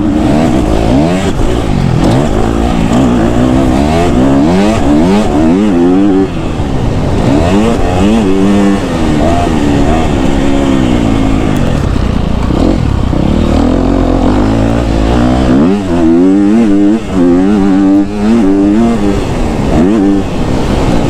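A KTM 250 SXF four-stroke dirt bike tears through ruts on a motocross track, loud and close, its engine revving up and down in repeated rising and falling bursts with constant throttle changes.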